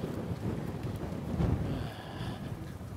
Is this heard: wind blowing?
yes